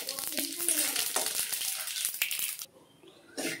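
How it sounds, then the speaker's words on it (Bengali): Whole spices, radhuni and white cumin, sizzle loudly in hot oil with bay leaf and dried chilli for a Bengali matar dal with bitter gourd. A dense, steady crackle runs for about two and a half seconds before dropping away, then briefly resumes. "আমি রাঁধুনি আর সাদা জিরে ফোড়ন দিয়ে দিলাম।"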